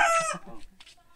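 Chickens clucking on a farm, a short burst of squawking calls up close followed by fainter scattered clucks.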